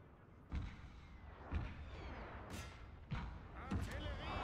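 Cannon artillery fire in the Napoleonic strategy game Total War: Napoleon, with four heavy booming thuds spaced about a second apart over a constant din of battle, while a voice talks in the background.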